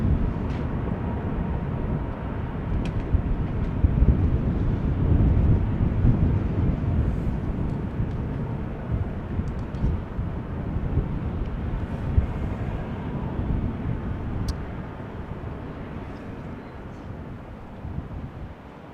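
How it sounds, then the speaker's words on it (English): Egypt Air airliner arriving at wet, windy Amsterdam Schiphol Airport from Cairo, a steady broadband jet roar with heavy wind buffeting on the microphone, holding loud throughout and easing slightly toward the end. "Egypt Air arriving from Cairo."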